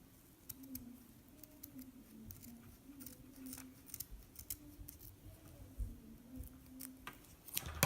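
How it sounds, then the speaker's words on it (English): Scissors trim the ends of macrame cord in a series of quick, crisp snips, fairly faint against a low steady hum. "And then I'll just cut the ends to be the same length."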